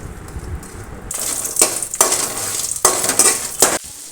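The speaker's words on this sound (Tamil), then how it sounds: "அடுத்ததாக வரமிளகாய் மல்லி மிளகு ஜீரகம் இது எல்லாத்தையும் வறுத்து எடுத்துக்கணும்" Red chillies, coriander seeds, pepper and cumin dry-roasting in a pan, with several sharp bright scraping stirs and rattling of the spices against the metal over a faint background, no talking.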